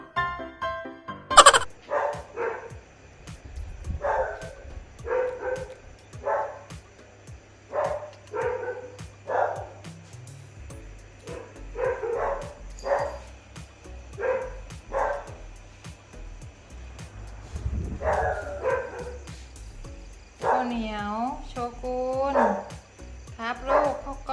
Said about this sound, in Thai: ดึกแล้วเห่าอะไรลูกพี่อ้วนเอ้ย